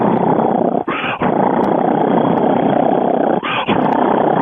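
A human voice imitates a cheetah's loud purr, a rough continuous growling rumble broken by two short pauses for breath.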